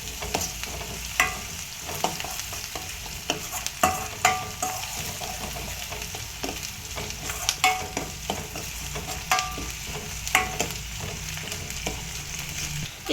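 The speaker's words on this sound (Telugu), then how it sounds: "కలుపుకున్న తర్వాత ఎలా కలుపుకోవాలంటే బాగా వేగినట్టు కలుపుకోవాలి." Potato kurma masala fries in a pan with a steady sizzle, punctuated by repeated scraping strokes of a spoon stirring every second or two, close up and with no speech.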